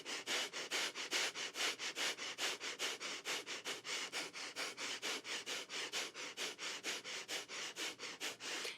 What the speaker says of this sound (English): Second round of fire breath.